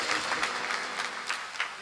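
An audience claps in a brief, steady patter of many hands, moderately loud and continuous, with no talk.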